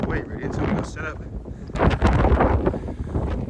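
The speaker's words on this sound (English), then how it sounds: "We're on the path now. It's super windy." Strong gusty wind buffets the microphone on a coastal footpath at Durdle Door, rumbling and roaring in uneven surges that swell and ease, with a voice briefly audible beneath the noise.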